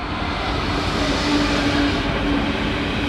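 Class 66 diesel locomotive 66065 passes through Lincoln Central station with a loud, steady engine rumble and rolling noise, plus a faint sustained tonal whine, and no break in the sound across the whole pass.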